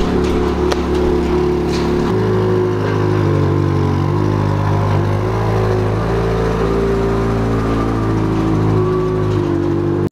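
A Ferrari engine runs loud and close, its note stepping down as it shifts through gears while pulling away, a continuous mechanical drone with a brief rise near the start.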